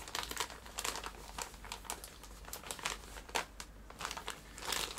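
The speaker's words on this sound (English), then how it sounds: "Let's open the wig." Plastic packaging around a Volks Super Dollfie doll wig being opened, with dense crinkling and crumpling bursts, close and fairly soft, with no talking.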